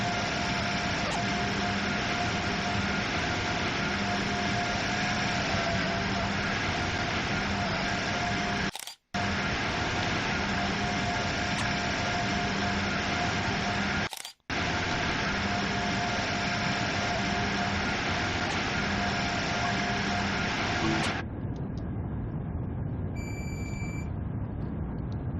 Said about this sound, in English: I also just don't like the fan sounds on this train.